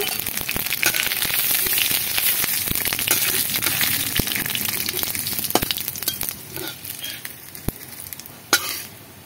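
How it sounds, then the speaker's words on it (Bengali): Cumin seeds crackle and sizzle in hot oil in a pan, a loud, dense frying hiss close up with scattered sharp pops that thin out toward the end, and no voices. "তেল দিয়েছি, তেল গরম হয়ে গেছে, দিয়ে দেবো কিছুটা জিরে।"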